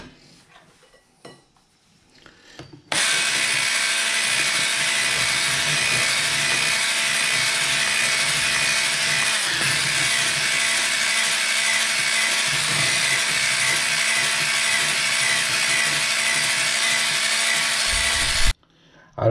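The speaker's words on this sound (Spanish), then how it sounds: "ahora seguimos batiendo" An electric mixer beating carrot cake batter with raisins and nuts, starting abruptly after a short quiet lead-in, then a steady loud whirring drone that holds evenly until cutting off near the end.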